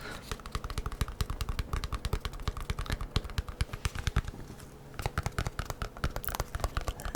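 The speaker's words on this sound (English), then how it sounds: "Tapping," Fingertips tap quickly and lightly on a box, making crisp, close clicks in rapid irregular bursts with a short pause before the tapping picks up again.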